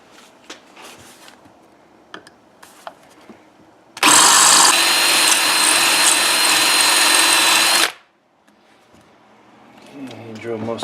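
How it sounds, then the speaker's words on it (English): Power drill bores out a rivet during a spark arrestor install on a Lexx XC exhaust, a loud steady whine lasting about four seconds with quieter handling clatter and faint voice before and after. "There's just no room to get the drill in there at the right angle"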